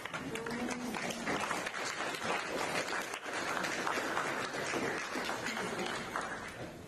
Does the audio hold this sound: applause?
yes